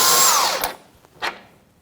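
A power tool spins on a 21mm control arm bolt on a Jeep Patriot, a short loud whirring burst that winds down, followed by a couple of faint metallic clicks.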